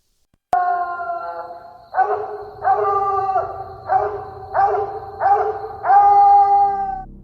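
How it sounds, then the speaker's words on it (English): A Walker coonhound bays in a series of about six long, mournful howls, each rising then trailing off, close and loud with short pauses between. "after we hear a word from this Walker dog"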